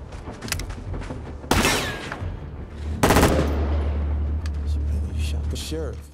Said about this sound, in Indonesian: secara mengejutkan Sirena melepaskan tembakan dan tepat mengenai kepala Gambreng